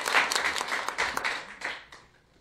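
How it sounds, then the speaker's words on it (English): A town hall audience gives a round of applause, a dense burst of clapping that fades away over a couple of seconds. "Give a round of applause for Ms."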